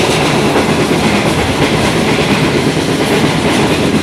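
Passenger train running on rails on the Karachi to Mirpurkhas line, a steady, loud, continuous rumble and clatter of wheels from inside the moving train, with no talking.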